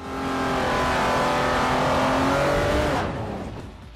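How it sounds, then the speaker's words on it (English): An older racing car engine in the video game Forza Motorsport 4 roars loudly and steadily, revving high, then fades as the car speeds away, no talking. "The older cars sound the best, like a symphony of violence."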